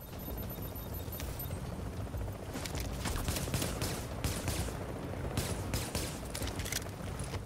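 Gunfire from a sniper enemy in the video game The Division, with a dense sustained crackle of shots and rumbling battle noise throughout, loud and unbroken with no talking.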